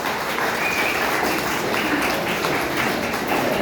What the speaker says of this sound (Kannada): ಗಮನ ಎಷ್ಟು ಇಲ್ಲಿರುತ್ತೆ ಅಂತ ನಿಮ್ಮ ಚಪ್ಪಾಳೆ ಮೂಲಕ ನಮಗೆ ಗೊತ್ತಾಗುತ್ತೆ